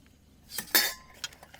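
A metal lid clinks down onto a pot of borscht cooking in a dugout, a bright clatter followed by a couple of lighter taps, fairly faint and close.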